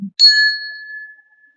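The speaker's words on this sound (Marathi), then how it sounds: "hanging bell," A brass hanging puja bell is struck once, then a clear metallic ding rings out close by and fades slowly over about a second.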